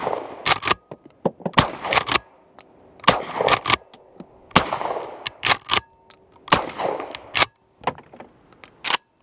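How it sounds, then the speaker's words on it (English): Maverick 88 20 gauge pump shotgun fired through a YHM Victra-20 suppressor, a series of loud close shots in quick pairs and clusters, each a sharp muffled crack with rattling action clicks between. "We'll shoot a box, see how it sounds."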